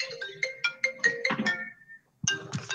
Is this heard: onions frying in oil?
no